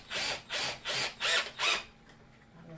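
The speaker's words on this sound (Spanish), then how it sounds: "Atornillo hasta el final." Five even bursts of whirring as a screw is driven into a universal front adapter for bikes and scooters, each lasting about a third of a second with brief gaps, close up, then quiet.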